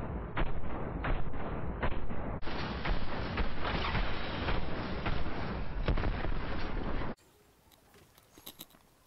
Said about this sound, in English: Can't tell if that was my grenade or if he had a grenade.